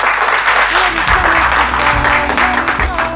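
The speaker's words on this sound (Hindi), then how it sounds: "तो गजेंद्र जी के सम्मान में तालियां होनी चाहिए" Office staff clap together in honour of senior colleague Gajendra, a close, loud, continuous round of applause with a voice and some low hum mixed underneath.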